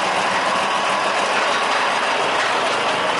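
Amphibious sugarcane plantation locomotive no. 02 rolling across a level crossing at Turi, a dense continuous mechanical rumble and clank of engine and wagons, close and loud throughout.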